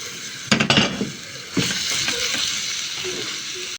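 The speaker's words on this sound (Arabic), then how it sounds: "هنزل بقى بالفراخ اللي انا فرمتها" Minced chicken dropped into hot oil, a sudden loud burst of sizzle with a clink of a utensil, settling into a steady close frying hiss that cuts off abruptly.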